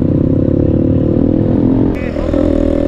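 Motorcycle engines rumble close by during a group ride of about a dozen bikers, a steady low throbbing drone with a brief dip and some clatter partway through.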